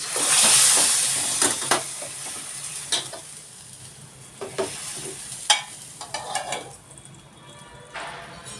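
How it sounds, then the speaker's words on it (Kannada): Hot oil sizzles loudly at first as chili and asafoetida are tempered for moong dal saaru, then settles into a hiss broken by scattered scrapes and clinks of a spoon stirring in a pan. "ಈಗ ಒಗ್ಗರಣೆಯನ್ನು ಕೊಟ್ಟಿದ್ದೀವಿ"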